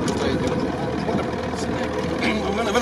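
A warmed-up 1969 Jeep Willys engine idles steadily and close by with an even, continuous rumble, while people talk over it.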